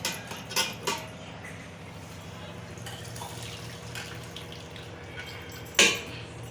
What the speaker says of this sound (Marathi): याला आता यातलं पाणी काढूया आपण